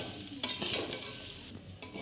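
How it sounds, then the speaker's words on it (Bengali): Marinated rice is tipped into a pan of frying cashews and raisins. It sizzles steadily at close range, with a few scraping stirs and no talk. "মাখিয়ে রাখা চালটা ঢেলে দেবো।"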